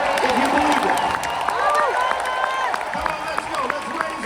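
Church audience clapping and cheering at a revival-style sermon, a steady dense wash of applause with scattered shouts, while a preacher talks over the noise throughout.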